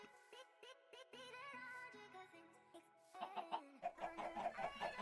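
Minecraft chickens cluck in a game world, a run of short, quiet clucks and squawks with a louder, busier flurry of clucking toward the end.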